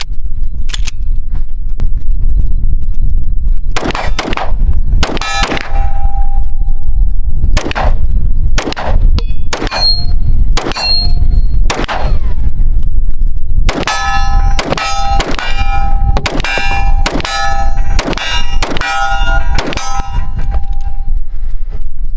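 An all-metal striker-fired pistol fires a long string of sharp, loud shots at the range, starting as spaced single reports and then coming faster in a quick run of rapid shots, each ending in a metallic ring.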